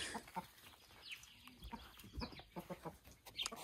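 A rooster clucks and calls on a village farm among chickens, with several short, rough bursts close by over a busy farmyard background.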